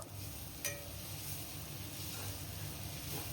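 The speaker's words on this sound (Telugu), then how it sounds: "ఇప్పుడు ఇందులోనే కట్ చేసి పెట్టుకుని కొత్తిమీర పుదీనా వేస్తున్నాను." Frying ginger-garlic paste in a pan for gongura chicken pulao, with chopped coriander and mint going in, gives a steady faint sizzle under one brief clink near the start.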